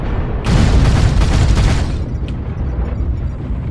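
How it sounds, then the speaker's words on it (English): Artillery strike explosions in the MechWarrior video game, a loud rumbling barrage of booms bursting in and rolling on for over a second before easing into a lingering low roar. "Artillery strike activated."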